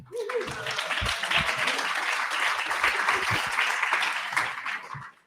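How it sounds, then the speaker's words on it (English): An audience at a library event applauds for the AV and facilities team, a full, steady round of clapping with a few whoops and voices mixed in, fading out at the end. "round of applause for our AV and facilities team"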